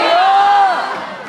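A crowd at a Disney's Hollywood Studios villains Halloween event cheers and shouts a loud, sustained 'booyah', voices merging into one close, brief roar that fades slightly at the end.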